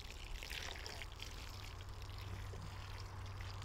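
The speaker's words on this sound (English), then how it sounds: "I'm going to go ahead and then water this in some to give it some moisture" Water is poured onto soil around sweet potato slips in a container, making a steady trickling, splashing pour close by with no talking.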